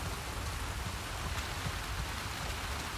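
Steady rain falls over a forested area in the video game The Last of Us Part II, a dense, even patter on surfaces at moderate volume that continues without a break and without any talking.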